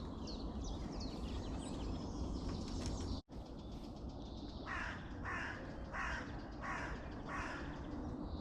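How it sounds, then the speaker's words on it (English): Crow caws repeated in a steady series of about five calls in the latter half, over constant outdoor rumble on a countryside walking trail in the early morning. "Thanks, Mr. Crow."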